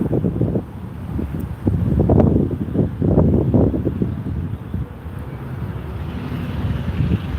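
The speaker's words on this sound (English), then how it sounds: "It's windy out here" Gusts of wind buffet the microphone in low rumbling surges that rise and fall, loud and close.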